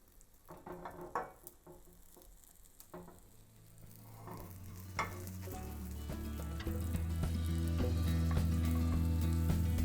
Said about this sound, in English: we're just going to fold the omelet in half